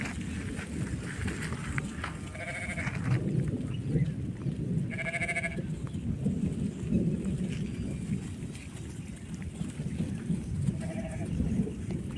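Sheep bleat several times as the flock sets off to graze, the calls spaced apart over a low rumbling, shuffling background with distant thunder in the air.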